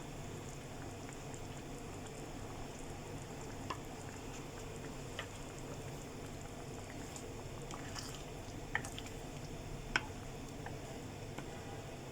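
Paneer fries in oil in a frying pan, giving a quiet, steady sizzle with a few soft pops and crackles scattered through it and no speech.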